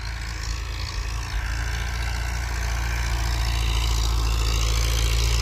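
A Mahindra tractor pulls a harrow through a field, its diesel engine giving a loud, continuous low throbbing drone with a steady pulsing beat and no voices.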